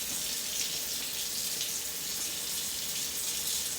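A bathroom or pharmacy sink faucet runs steadily while hands are washed, a close, even hiss of flowing water with no voices over it.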